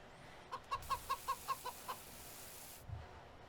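Chickens in the video game Farming Simulator 19, about eight quick rhythmic clucks in a steady run, fairly clear and close against quiet background hiss.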